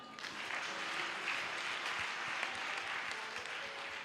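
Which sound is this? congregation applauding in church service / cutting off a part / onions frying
congregation applauding in church service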